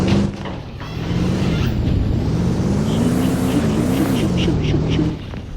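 A pickup truck engine runs hard while the truck churns through mud at a truck show, a steady loud low drone with shifting pitch under bursts of talk, dropping off near the end.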